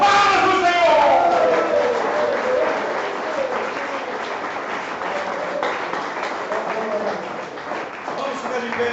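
Church congregation clapping after a Portuguese-language sermon, a loud burst of applause that settles into steady clapping with shouts and voices layered over it.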